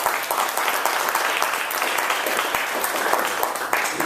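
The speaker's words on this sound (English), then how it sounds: "How about a round of applause for that?" Audience applause at a real estate seminar on fixing and flipping houses, a loud, dense, sustained round of clapping from a large crowd throughout.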